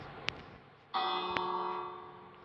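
A bell in the video game Minecraft rings once with a bright, sustained metallic tone that slowly fades, preceded by a couple of short clicks.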